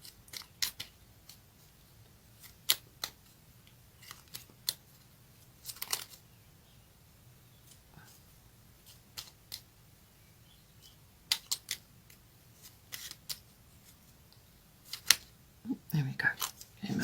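Tarot cards shuffled and pulled during a destiny reading, heard as sparse, crisp snaps and riffles in short clusters against a quiet room background.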